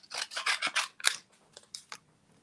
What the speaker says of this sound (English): now I've got to cut this out